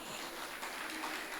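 A faint, steady wash of audience clapping after a religious discourse at a Vaikasi Visakam Brahmotsavam festival, distant and even throughout.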